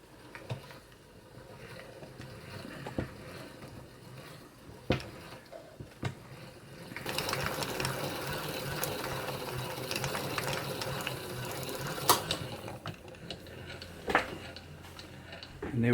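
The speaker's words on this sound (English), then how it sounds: "engage the bobbin winder and turn in operating direction, and then we're all set to wind" Singer 99K sewing machine winding a bobbin, a soft whirring run that starts partway through and holds steady, with scattered light clicks and knocks before and during it.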